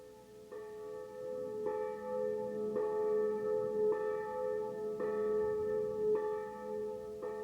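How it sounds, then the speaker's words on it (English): Church bells in Poland ring in a steady, even rhythm, about one resonant strike per second, each tone lingering into the next, with no voices. "For centuries, the bells have beckoned them from Poland's countryside."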